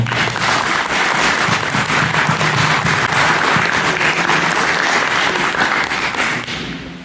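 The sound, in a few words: round of applause at Eagle Court of Honor ceremony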